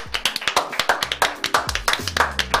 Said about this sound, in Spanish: vamos a recibir con un fuerte aplauso a Alexis Moyano